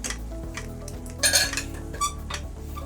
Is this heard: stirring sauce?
yes